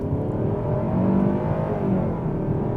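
A 2024 Hyundai Sonata SEL accelerating on a test drive, with a steady engine drone and rising pitch heard from inside the cabin, with no talk.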